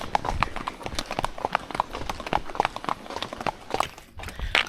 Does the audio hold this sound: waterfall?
no